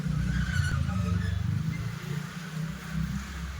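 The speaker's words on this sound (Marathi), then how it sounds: "इकडे पण खूप ट्रॅफिक राहते." Busy street traffic in Nagpur's Itwari market, a continuous low rumble of nearby engines with passing vehicles and occasional tire noise, steady throughout without speech.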